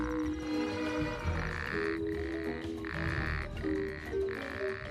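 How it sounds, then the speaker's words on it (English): An Arabian toad calls in repeated long, buzzing trills separated by short pauses, loud and close, over a steady background of other croaking frogs. "His extending throat pouch amplifies his call"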